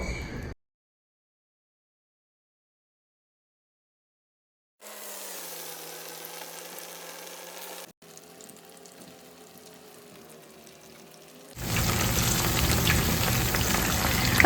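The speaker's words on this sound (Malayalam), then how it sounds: "ഇനി നമുക്ക് ഈ മാവിലേക്ക് ഓരോ പഴം നോക്കി കൊടുത്ത് വെളിച്ചെണ്ണയിലേക്ക് ഇട്ട് കൊടുക്കാം" Banana fritters (pazham pori) fry in hot coconut oil, heard as hissing, bubbling sizzle in separate stretches broken by silent gaps, loudest and fullest in the final few seconds, with no talking.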